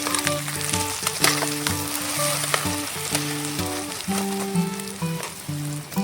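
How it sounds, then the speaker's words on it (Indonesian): An egg fries in hot oil in a pan on a camping stove, giving a steady close sizzle with crackling pops and occasional scraping stirs, with no voices. "saatnya telurnya saya goreng"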